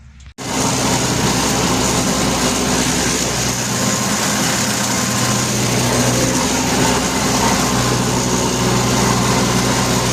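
After a brief click, a tractor engine starts up and runs continuously nearby, hot after slashing grass, a constant droning hum with a slight rattle and no change in pace.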